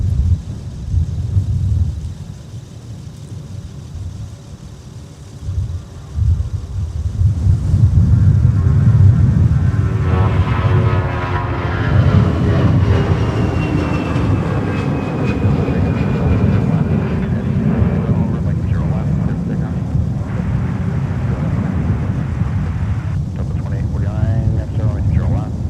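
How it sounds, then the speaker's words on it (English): A Delta jet departs from runway 30 left at Minneapolis–St. Paul airport in winter, its broad, steady engine roar rumbling loud and continuous, swelling partway through and holding for the rest of the stretch. "So we got our Delta departure off of runway 30 left."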